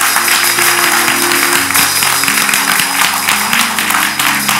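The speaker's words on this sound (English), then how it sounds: "30 seconds, clap your hands and praise Him." A church congregation at a live service claps hands in praise, a dense, steady wash of clapping that fills the room over musical accompaniment, with no talking.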